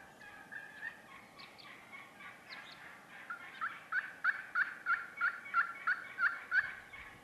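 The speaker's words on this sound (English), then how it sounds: "I've never heard a couple hens call this much." Wild turkey hens calling during a South Dakota turkey hunt, with a few scattered yelps followed by a fast, evenly spaced series of loud, near yelps.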